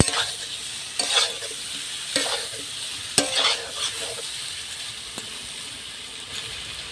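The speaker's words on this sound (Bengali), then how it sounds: "কচুটাকে একটু কষিয়ে নেবো" Taro with turmeric is stir-fried in a pan, a steady sizzle broken by scraping stir strokes about once a second, close and moderately loud, with no talking.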